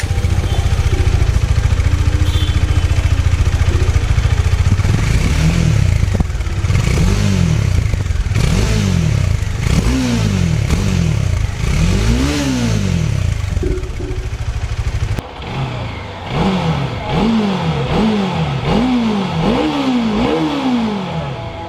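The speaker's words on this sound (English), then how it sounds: "The engine sound is of course very throaty and punchy." A Bajaj Dominar 400 motorcycle on its stock exhaust idles and then revs repeatedly in rhythmic throaty bursts, loud and close, with a short pause before another series of punchy revs.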